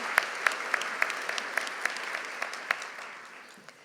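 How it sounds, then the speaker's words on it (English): Graduation ceremony audience applauds in a hall, a steady bed of clapping with sharp individual claps standing out, gradually fading toward the end. "Can we give them a round of applause, please?"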